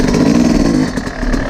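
A dirt bike roars close by as it rides a loose winter track, its engine loud and rough and the sound dipping slightly partway through.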